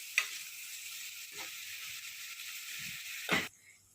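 Green chilli chicken ingredients sizzle steadily in a hot pan, with a continuous close hiss and a few soft scrapes and clinks, and no talking.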